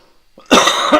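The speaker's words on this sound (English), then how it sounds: "As soon as I stop coughing." One sharp, loud cough bursts close to the microphone after a brief near-silence, from a radio host in a studio.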